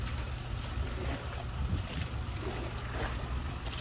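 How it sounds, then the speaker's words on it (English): Lake water at Presque Isle, Erie, Pennsylvania, sloshes and smacks against a dock on an October morning, a steady close wash of churning water with low rumble and no voices. "I can hear all the water just bouncing around."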